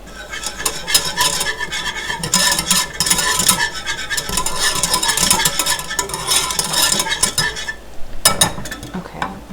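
A whisk stirs flour into a vegan keto cauliflower cheese sauce in a pan, giving continuous scraping and rhythmic swishing with a light sizzle, close and busy, then a brief pause near the end.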